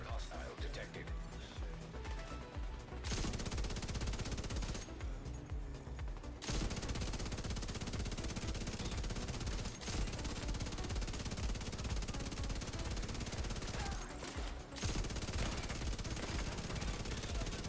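Sustained automatic fire from a gold LMG in The Division 2, a dense continuous rattle of rapid shots with brief pauses, heard under ongoing commentary and game sound.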